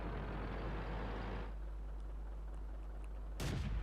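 A 75mm tank gun shot fires in the World of Tanks video game as a loud, sudden boom near the end, following a low steady engine rumble and a sharp drop in noise.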